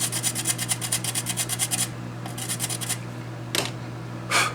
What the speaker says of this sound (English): So I want to just get my little sanding pen here